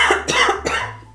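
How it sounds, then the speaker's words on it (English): A sick person coughs three times in quick succession, close and fairly loud, with each cough short and harsh. "I've been coughing all day"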